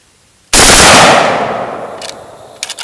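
An AKS-74u rifle bump-fired in a fast burst: a sudden loud blast of rapid shots that blur together, fading into a long echoing tail, with faint clicks afterward.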